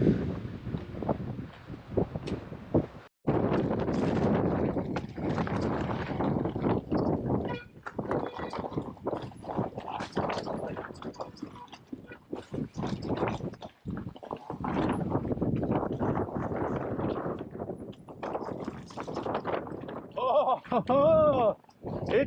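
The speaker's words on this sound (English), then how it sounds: "Super windy." Strong, gusting wind buffets the microphone on a snowy mountain top during an e-bike ride, a loud, continuous roar with brief lulls; a person speaks over it now and then.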